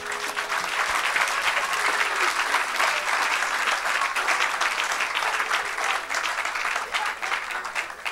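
Congregation in a church service clapping in praise, sustained loud applause from a large crowd filling the room evenly, with faint voices buried beneath.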